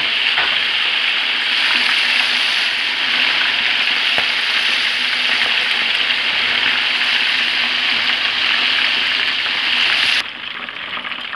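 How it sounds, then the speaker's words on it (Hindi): Pieces of chicken tikka deep-frying in hot oil make a loud, steady, close sizzle and crackle that holds without pause, then drops abruptly near the end. "अब मैं ये टिक्के डाल रही हूँ इसमें। बस इनको अब हम थोड़ी देर के लिए डीप फ्राई कर लेंगे।"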